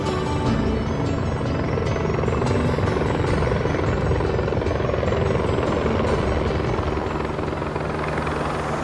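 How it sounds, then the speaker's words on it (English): Loud, continuous rotor thump and engine roar of three helicopters flying overhead, steady throughout with no voices. "Three helicopters overhead"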